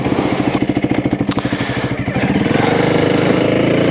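A Honda CRF300L motorcycle engine runs loud and close while riding, with a pulsing, throbbing note that rises and steadies into a continuous drone, no talking over it.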